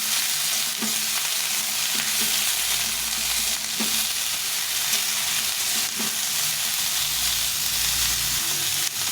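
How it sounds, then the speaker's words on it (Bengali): Radish pieces frying in a pan, giving a steady close sizzle broken by occasional clicks and scrapes of stirring, with no talking. "তারপরে এই মূলোটা দিয়ে দিলাম দিয়ে একটু ভালো করে ভেজে নেব"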